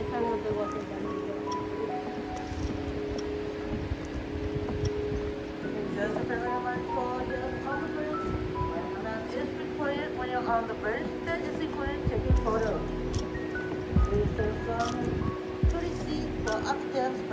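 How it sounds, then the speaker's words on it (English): Water rushing far below the Capilano Suspension Bridge, a steady broadband wash heard from high above, with people talking nearby over it. "You hear the sound of the water down below."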